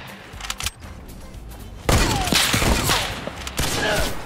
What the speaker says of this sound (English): you're being shot from the west.